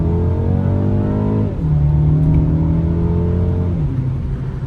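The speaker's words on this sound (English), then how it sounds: "we're going to do a full acceleration here." A 2024 BMW 228i Gran Coupe with a twin-turbo 2-liter four-cylinder at full acceleration from a stop, heard from inside: the engine climbs in pitch, drops at an upshift, then climbs again to a second shift, loud and steady with no talk.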